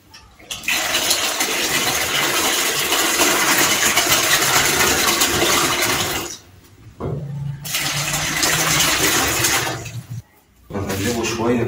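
Water poured from a one-liter container into a bucket of wall paint to thin it, a loud, steady gushing pour that stops briefly and then resumes, with a shorter break near the end.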